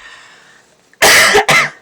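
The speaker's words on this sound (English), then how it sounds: "Why am I coughing so much?" Two sharp, loud coughs from one person, close up, the first longer and the second following after a brief gap, with faint room hum before them.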